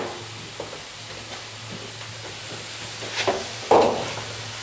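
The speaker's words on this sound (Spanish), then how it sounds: "Voy a apartar las papas mientras." Potatoes frying in a pan are pushed aside, giving a soft continuous sizzle with scattered scraping and stirring knocks, ending in a louder sudden sizzle burst; no talking.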